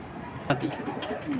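Pigeons in a loft give a few short, soft coos and calls over a steady murmur of background noise, with one sharper sound near the start.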